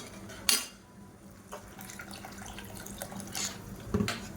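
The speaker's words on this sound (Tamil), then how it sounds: "இன்னும் கொஞ்சம் தண்ணி சேர்த்துக்கலாம்." Water poured into a pot of curry leaf curry, heard as faint splashing and running water, with a couple of sharp clinks of metal utensils against the pot.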